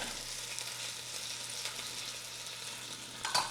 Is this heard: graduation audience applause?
no